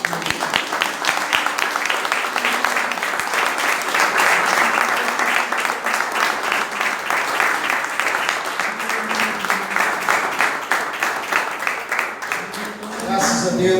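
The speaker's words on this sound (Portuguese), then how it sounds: "se você puder aplaudir mais uma vez o nosso Deus" A church congregation applauding God in a Portuguese-language service: dense, continuous clapping from many hands filling the room, with voices mixed in underneath.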